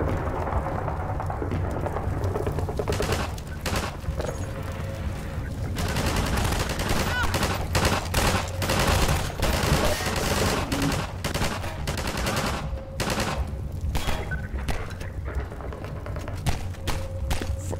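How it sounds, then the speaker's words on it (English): Sustained gunfire in the video game Half-Life 2, with rapid automatic bursts and heavy booming shots crowding together almost without pause, loud and continuous throughout. "What are you shooting at?"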